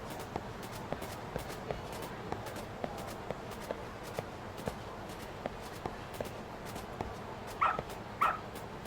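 Two short dog barks from a game dog in Lost Judgment ring out near the end, over a steady run of footstep taps and low background game ambience; no one talks.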